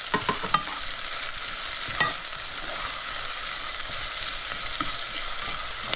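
Thyme, cilantro and pepper flakes sizzle steadily in a hot pan, a continuous close fry with occasional soft stirring scrapes and no talk.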